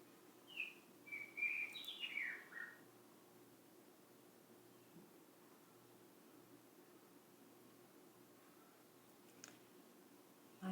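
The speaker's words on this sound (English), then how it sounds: "My bird friend is calling outside for me to sing back." A bird outside gives a short burst of high, quick chirps and twittering notes early on, faint and somewhat distant over a soft hiss, followed by quiet with a stray faint tick or two.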